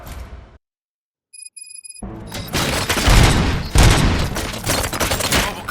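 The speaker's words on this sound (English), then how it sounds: "Gunshots? What's going on?" Sustained gunfire bursts erupt in the RoboCop: Rogue City video game, a loud dense fusillade following a brief silence, with sharp booming shots layered over each other throughout.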